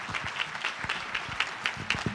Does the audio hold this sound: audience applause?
yes